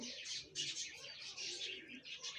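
Budgerigars chirp and twitter busily in quick, overlapping bursts, fairly close, with a faint low murmur underneath.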